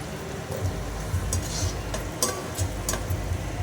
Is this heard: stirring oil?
yes